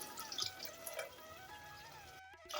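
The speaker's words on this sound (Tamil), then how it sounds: "இப்போ நான் 3 டம்ளர் தண்ணி சேர்த்துக்கிறேன்." Water poured from a tumbler into a cooking pot for tomato biryani, three tumblers' worth, gives a steady close splashing trickle that runs on and briefly stops near the end.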